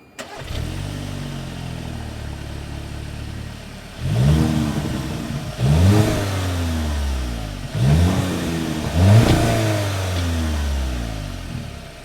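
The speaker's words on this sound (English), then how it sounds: "As always, here is that exhaust clip." A 2026 Volkswagen Tiguan exhaust idles with a low rumble, then revs sharply four times in a row, each rev climbing and falling back, close and loud.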